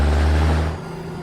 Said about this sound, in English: Doesn't this truck just sound so good